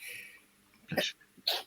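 Two quick sneezes, close and fairly soft, one about half a second after the other, with faint background noise before them.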